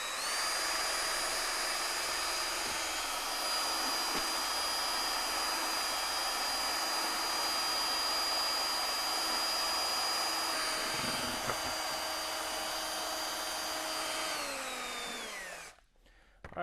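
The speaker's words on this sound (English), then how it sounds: "Then we take our drill and our paddle and we mix it for about 2 minutes." A power drill with a paddle mixer stirring epoxy runs continuously with a steady whine and hum for a long stretch, its pitch dropping slightly before it winds down and stops.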